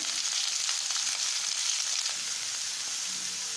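Onion, ginger and garlic sauté in a hot pan for a potato thoran, giving a steady, close, dense sizzle that runs unbroken throughout with no voices.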